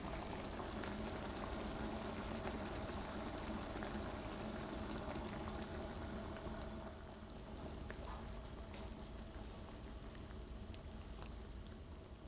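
Beef stroganoff with cream, Worcestershire-type sauce and white pepper simmering in a pan, giving a steady, close bubbling and hiss that softens slightly partway through.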